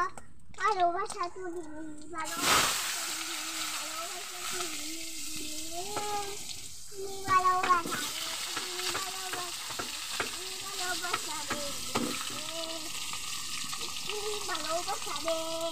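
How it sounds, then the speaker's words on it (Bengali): Cut potatoes hit hot oil in a pan that just fried magur fish and set off a sudden, steady sizzle that continues under nearly constant talking. "এবার এখানে আমি আমার কেটে রাখা আলু দিয়ে দিচ্ছি এই তেলটার মধ্যে"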